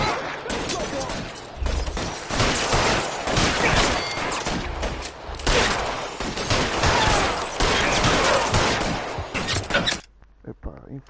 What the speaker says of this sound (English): Fire a warning round!